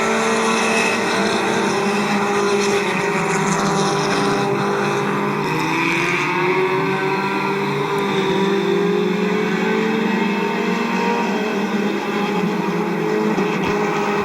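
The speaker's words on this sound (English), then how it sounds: "Clayton Oliver, his car running better now in the heat race than for sure it did in qualifying" Compact race cars roar around the Midvale Speedway oval during a heat race, a dense, continuous engine drone with shifting pitch as several cars run close together, loud and steady throughout with no talk.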